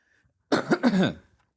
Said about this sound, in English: We're going to cut the cough